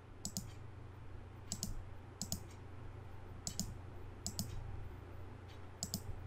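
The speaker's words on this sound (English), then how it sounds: "just click it, and you can just click some shapes" Crisp computer mouse clicks come while drawing shapes in PowerPoint, single and paired clicks spaced irregularly over a faint steady hum, close and quiet, with no speech.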